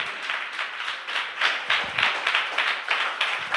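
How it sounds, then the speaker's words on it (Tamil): Congregation clapping hands together in a church service, a steady dense patter of many hands sustained throughout, fairly close and loud with no talk over it. "நல்ல கைத்தட்டி ஆண்டவருக்கு நன்றி சொல்லுங்க."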